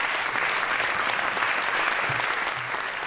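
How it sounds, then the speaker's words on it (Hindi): Audience applause at a live Hindi poetry recital honors poet Rimjhim Kumar, a dense, steady wash of many hands clapping that holds evenly loud for about three seconds with no voices over it. "एक बार जोरदार तालियां रिमझिम कुमार जी के लिए"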